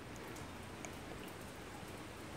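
Steady rain hisses outdoors during Hurricane Matthew in Florida, an even, continuous wash of noise with occasional faint drop ticks and no talking.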